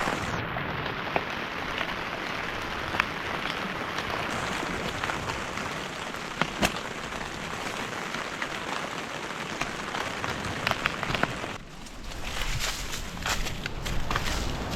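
Heavy rain pours steadily on an outdoor fishing spot, a dense continuous hiss with scattered sharper drops and taps, fairly loud and unbroken for most of the time before briefly easing near the end.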